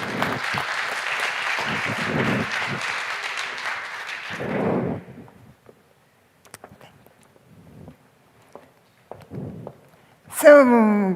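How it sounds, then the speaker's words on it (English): An audience at a keynote talk applauds loudly and steadily for about four seconds, then the clapping fades out and footsteps and small stage noises follow. "big applause for her."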